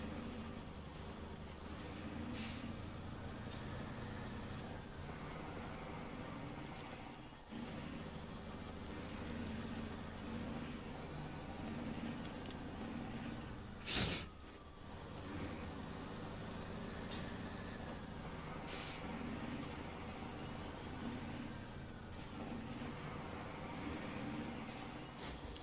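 A truck engine in SnowRunner runs under light throttle, a steady low drone held for the whole stretch with a couple of brief sharp clicks, moderately quiet and without talk.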